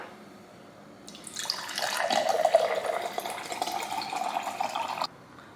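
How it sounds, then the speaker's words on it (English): Cold ice water is poured into a glass in a steady splashing stream for about four seconds, close by and moderately loud, then it stops abruptly. "A glass of cold ice water."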